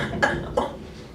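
Two quick coughs close up, each a short harsh burst, with a faint breathy background between them.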